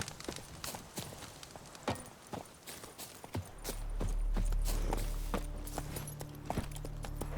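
Horse hooves in the video game The Witcher 3 clop at an irregular walking pace, and a low rumbling hum swells in partway through and continues beneath them.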